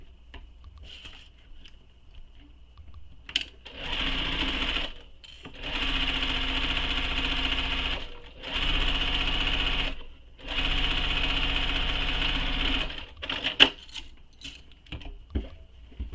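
A sewing machine runs along one side seam of a crossbody bag in four steady close bursts. Each burst is separated by a brief stop, with faint handling clicks before and after.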